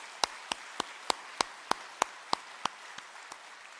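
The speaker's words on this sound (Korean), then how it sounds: "하나님께 영광의 박수를 다시 한번" Church congregation clapping in unison to give glory to God: about a dozen sharp, evenly spaced claps in a steady rhythm over a quiet background, softening over the last few beats.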